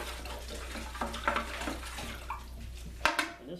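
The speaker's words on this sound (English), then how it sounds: "Now we're going to resuspend the clay into much less water." Water poured into clay to resuspend it, a gentle continuous splashing and trickle with a few sharper sloshes and a clink toward the end, heard up close.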